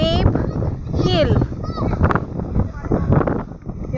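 Strong wind buffets the microphone on a hilltop at Dreamscape Hill, a steady low roar under people talking close by.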